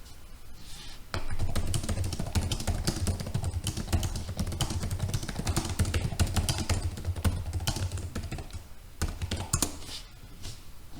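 Rapid, continuous clatter of Lenovo IdeaPad S340 laptop keys being typed on, close and steady, with soft tapping that briefly pauses near the end.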